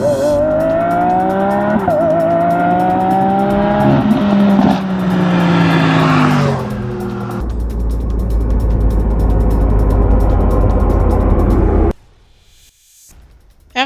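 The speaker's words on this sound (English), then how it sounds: "Alright, the Lambo's coming now." A Lamborghini roars past at a race, its loud engine whining and shifting in pitch, then swelling into a heavy roar that cuts off abruptly to near silence.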